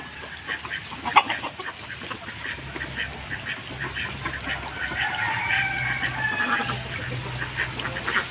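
Chickens clucking and calling inside a hut in the rural Philippines during rainy weather, with scattered squawks and a sharp call near the start over a steady background patter, moderately close and without speech.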